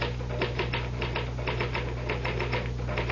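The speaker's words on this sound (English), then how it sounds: "the truth is that the typewriter, or rather, Mr. Gahn, does all the brain work" A typewriter clatters in a 1974 radio mystery drama, with rapid, evenly spaced keystrokes continuing throughout over a steady low hum.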